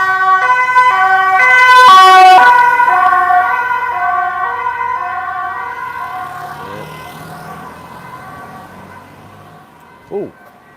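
An ambulance siren sounds on a street beside a Sunday night market in Chiang Mai, Thailand, loud and close, then fading as it passes, with a brief horn-like blip near the end.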